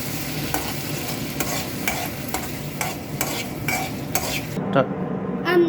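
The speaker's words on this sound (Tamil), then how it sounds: "நம்ம பண்ண சாஸில் போட்டு மிக்ஸ் பண்ணிக்கலாம்." Egg being stirred into sauce for egg noodles in a pan, with steady scraping strokes over a continuous sizzle and a faint clink near the end, close and fairly loud.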